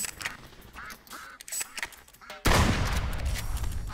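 Duck Hunt game sounds: scattered quacks and small blips give way to a sudden loud, sustained blast of shotgun fire and noise that continues to the end.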